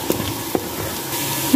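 Spices including garam masala and a black cardamom are roasted in a pan, giving a soft, steady sizzle with a few light clicks and taps of stirring close by.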